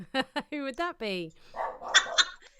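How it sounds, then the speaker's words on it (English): A dog barks in short sharp yips during an indoor chat, mixed with a woman's speech and partly overlapping it. "I'm sorry about my dog."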